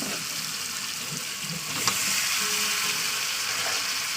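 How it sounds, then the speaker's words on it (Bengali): Potatoes tipped into a hot frying pan for an egg and potato curry: a steady hiss of oil, then a sudden clatter and a louder, fuller sizzle that holds for the rest of the clip. "এক থেকে দু মিনিট পরে আমি আলুটাকে দিয়ে দেবো চলুন দিয়ে দেবো আলু"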